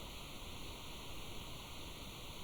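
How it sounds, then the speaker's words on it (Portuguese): Rain falls steadily on beach sand outside a quiet seaside house, a soft, even, continuous hiss with no breaks. "A chuva cobre a areia."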